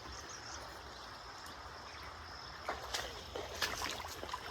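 Clear water runs over small stones in an untouched stream on a waterfall trek near Bhangarh Fort, a soft, steady outdoor wash with faint trickles and a few splashy ripples toward the end.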